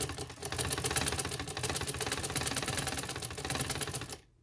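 A sewing machine runs a double line of stitching over an existing seam on a neck design, giving a fast, even mechanical clatter that holds steady for about four seconds and then stops abruptly.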